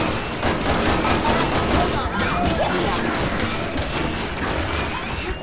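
Rapid gunfire rattles through a Resident Evil 6 firefight, a dense, loud barrage of shots with thumps mixed in, sustained throughout.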